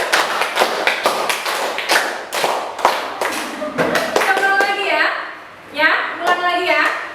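Rapid rhythmic group clapping in a classroom tepuk semangat routine, quick clustered claps that grow into a steady pattern, with children's voices talking and calling out over the later part.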